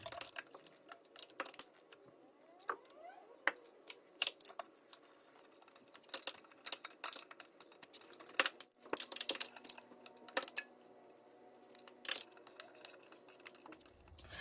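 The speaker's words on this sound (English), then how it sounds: "We'll torque all the bolts, all 6 of them, to spec." Torque wrench tightening the six bell-housing bolts to 90 foot-pounds on a 2009-or-later Hyundai Genesis 3.8L engine, heard as scattered sharp metallic clicks and ratchet ticks in a quiet workshop with no talking.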